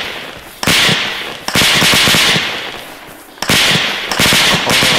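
Sharp bursts of rifle and automatic gunfire in an Arma 3 battle around a bridge on Stratis, loud and close, the sharp cracks coming in clusters with echoing tails between them.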